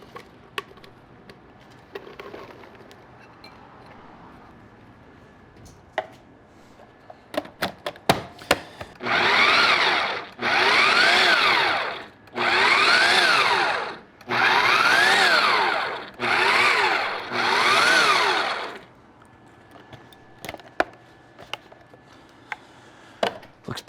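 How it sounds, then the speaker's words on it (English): Food processor blitzing shallots, garlic and mushrooms for a beef Wellington, running in five loud, close pulsed bursts of whirring and chopping after a few scattered clicks and knocks, with no talking. "So food processor."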